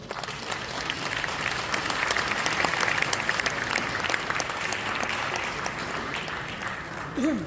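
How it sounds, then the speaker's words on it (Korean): An assembly gathered at a church general assembly breaks into sustained applause that holds steady for several seconds, with a brief voice at the very end. "자, 다 같이 박수 한번 쳐주시죠"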